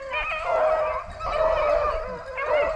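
A hunting hound bays on a rabbit trail in three long, mournful howls, each rising and falling with short breaks between, close and loud.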